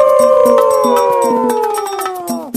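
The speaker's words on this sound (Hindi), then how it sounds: "उन लोमड़ियों के झुंड ने नए राजा का अभिवादन करने के लिए एक साथ आवाज लगाना शुरू किया" A pack of foxes howling together in an animated story, a sustained, loud, slowly falling wail layered with rising harmonic cries and sharp rhythmic accents underneath, no speech.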